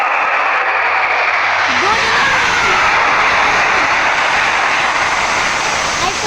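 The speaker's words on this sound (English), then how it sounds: "aircraft pulling outwards for the Trishul formation." Military aircraft flying in Trishul formation over the Republic Day parade, a loud, continuous jet roar heard outdoors with a broad rushing wash of engine noise throughout.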